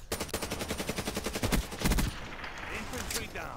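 M16 rifle in Black Ops 3 Gun Game, firing a rapid rhythmic string of close, loud shots for about two seconds before the sound trails off.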